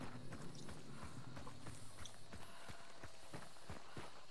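Horse hooves clip-clop in a video game, a run of distinct irregular hoof strikes close by that grow more clearly separated toward the end, over a dense, low background noise.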